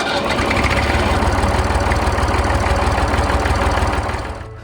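A tractor engine runs at a steady idle, a close, loud, evenly pulsing chug that carries on throughout and fades slightly at the end.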